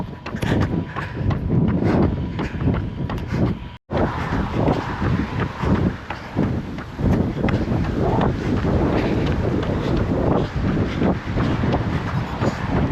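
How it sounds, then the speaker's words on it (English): Strong wind roars and buffets the microphone of a runner heading uphill straight into a headwind, with footfalls and heavy breathing underneath, steady and loud throughout apart from a brief dropout near the start. "Now I'm going back uphill straight into the wind."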